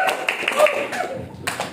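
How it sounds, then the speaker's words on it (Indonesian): Students in a motivational learning session applaud for a classmate, a short burst of hand clapping that trails off and picks up again, with some voices mixed in. "Tepuk tangan buat Mas Denny."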